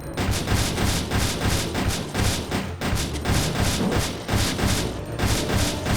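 Rapid gunfire in the arcade shooter Resident Evil Survivor 2 Code: Veronica, running on the Sega NAOMI, dense repeated shots in quick bursts with thudding impacts, loud and continuous with brief gaps.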